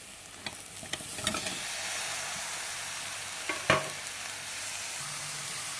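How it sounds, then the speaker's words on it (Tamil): Cauliflower sautéing in a pan, with a steady background sizzle, a few scraping clatters of a utensil, and a sharper clink near the middle. "காலிஃப்ளவர் சேர்த்து நல்லா வதக்கி விட்ட பிறகு"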